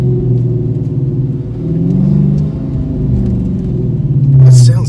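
A Dodge Demon fitted with a Pedal Commander held in first gear, its engine giving a deep, loud rumble that swells into a rev near the end, with voices talking over it.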